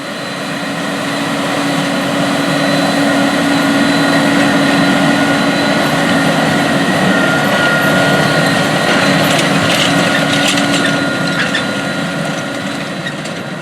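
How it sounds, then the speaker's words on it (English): A loud, steady engine drone with a constant whine from a 396-horsepower Challenger 1038 tractor pulling a corn planter nearby, continuous throughout with no voices. "the corn planter, which is operated by a 396 engine horsepower Challenger 1038 tractor"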